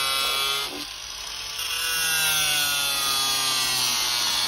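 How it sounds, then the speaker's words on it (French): A disc grinder cuts through a car bumper on a Twingo with a loud, continuous high whine that dips briefly, then a steady abrasive grind, close and with no talking. "on disque le deuxième pare-choc pour pouvoir le remonter"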